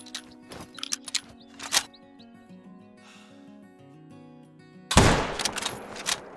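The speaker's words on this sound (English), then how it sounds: "We're gonna shoot at you and miss" Gunshots in a hunting video game: a few sharp, spaced cracks over a quiet tonal background, then one much louder, close blast near the end.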